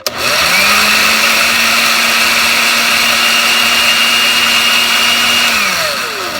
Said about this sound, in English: I took the top out of my blender here